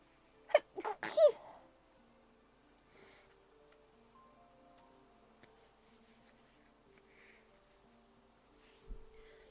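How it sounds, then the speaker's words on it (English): One loud, close human sneeze in a quiet room, a sharp sniffing intake then a burst, followed by near silence with faint small clicks and a low thump at the end. "And I just need to sneeze."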